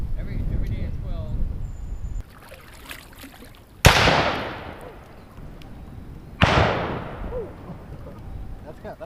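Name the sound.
cannon shot heard from a kayak on a river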